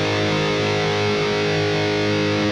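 A thick, buzzing distorted electric guitar chord rings out continuously, loud and dense with harmonics, with no other sounds.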